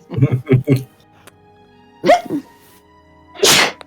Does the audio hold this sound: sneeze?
yes